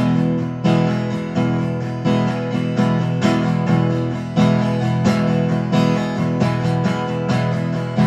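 Close, loud guitar strumming in a steady repeating pattern of quick paired strokes over ringing chords, with no talking.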